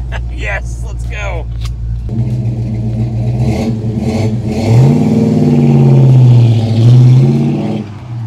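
A 1969 Plymouth Road Runner engine rumbles low, then revs up loudly and roars past nearby, the pitch rising and falling, with people talking over the start.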